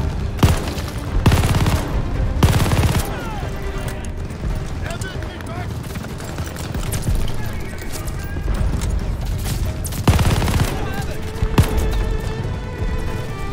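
Gunfire in the Call of Duty Vanguard campaign: loud bursts of rapid shots and booming impacts with dense battle noise throughout, and a player talking over the action.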